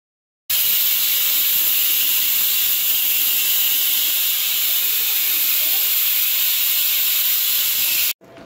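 A pressure cooker of boiling mutton lets out a loud, steady hiss of escaping steam, unbroken for about eight seconds before it cuts off.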